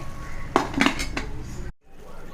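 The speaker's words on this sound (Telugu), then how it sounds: "కాసేపు మూత పెట్టేద్దామండి." A metal lid is set onto a cooking pot after tomatoes and chili powder go in for a mutton curry with cucumber, giving a few sharp clanks and rattles of metal on metal, close and fairly loud, then a moment of quiet.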